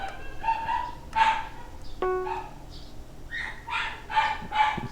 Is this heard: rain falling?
no